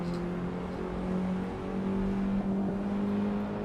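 An engine drones steadily while a car is driven at the Nordschleife in the racing game Assetto Corsa, a sustained loud hum that rises slightly partway through. No voices are heard.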